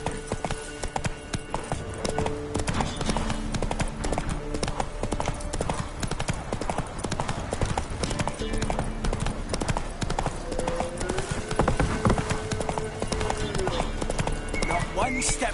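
Roach the horse galloping in The Witcher 3 on PS5, rapid rhythmic hoofbeats continuing for the whole stretch amid game music and sound effects, with voices talking over it.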